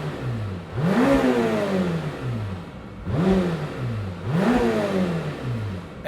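A Lamborghini Temerario hybrid V8 supercar revs hard three times, each burst climbing sharply in pitch before dropping back to a steady idle, loud and close with no voices.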